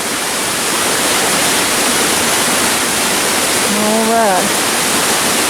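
A Tennessee waterfall roars in a loud, steady, close-up rush of falling water that fills the whole stretch, with one brief spoken word near the end.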